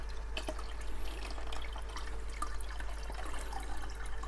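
Aquarium filter media from an Eheim Classic 600 external canister being rinsed in water in a plastic bucket: continuous splashing and dripping with small irregular sloshes, fairly quiet and close, with no talk.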